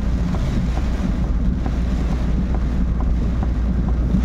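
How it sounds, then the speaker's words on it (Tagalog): Steady, heavy rushing typhoon wind from Typhoon Kristine fills the scene with a constant roar, rain noise blended in, no voices. "lakas ng hangin at ulan"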